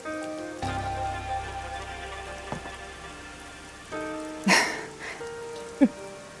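Rain from the video game Master Detective Archives: Rain Code pours in a constant wash under background music, broken by a couple of brief sharp sounds near the end.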